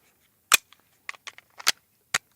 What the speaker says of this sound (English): this is the last 18 rounds of the first 150 rounds through the gun